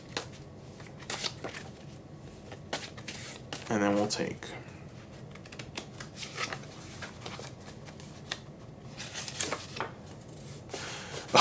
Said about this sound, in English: We'll shuffle.